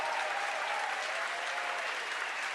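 A crowd cheers and applauds at a SpaceX Falcon Heavy rocket launch, a dense, continuous roar of clapping and shouting that holds steady and fairly distant throughout.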